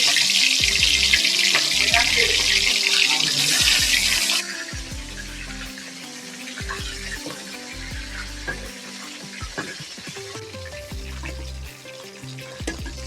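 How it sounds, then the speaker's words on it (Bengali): Turmeric- and salt-coated chicken frying in hot oil gives a loud, continuous hiss that drops in level partway through, with a few light utensil knocks and a low hum underneath. "মুরগিটাকে একটু ভাজবো।"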